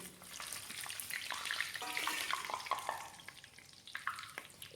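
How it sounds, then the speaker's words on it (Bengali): Whole bay leaf, cinnamon, clove and cardamom crackle in hot oil, a soft close sizzle with scattered pops and stirring scrapes, and no talking. "এখন এখানে আমি কিছুটা ফোড়ন দেবো তো ফোড়নের জন্য আমি এখানে নিয়েছি তেজপাতা দারচিনি লবঙ্গ এলাচ"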